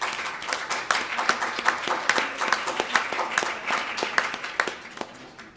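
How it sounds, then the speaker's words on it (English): An audience applauds steadily for several seconds, a dense patter of many hands clapping at a moderate distance, fading slightly toward the end. "if we can do a round of applause for all of the many, many people"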